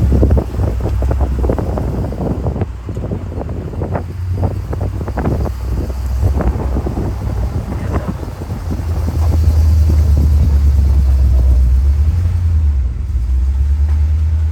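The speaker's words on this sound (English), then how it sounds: "One jungle truck leaving IRX approaching Makai" A jungle truck on a Hawaiian ranch road at Kualoa Ranch drives off with a steady low engine rumble, buffeted by heavy wind noise on the microphone and growing louder and rougher toward the end.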